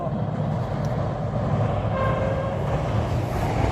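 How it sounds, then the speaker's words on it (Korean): A train passes near a farm greenhouse in Miryang, South Korea: a steady, loud rumble of rolling wagons with a faint horn-like tone, continuous and unbroken throughout, with no talking. "기차 소리가 들려서"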